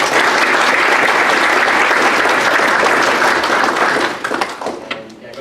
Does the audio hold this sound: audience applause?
yes